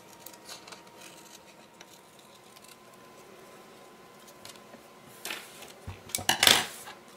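Paper being cut with scissors for a dress-shaped embellishment, heard as a few quiet snips and rustles near the end after a stretch of faint background.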